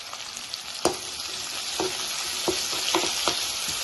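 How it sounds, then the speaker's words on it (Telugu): Small crushed onion cloves fry in a pan with a constant bright sizzle. A few distinct spoon clicks and scrapes against the pan stand out, and no one is talking. "ఇది మొత్తంగా కొంచెం ఫ్రై చేసుకున్నామండి"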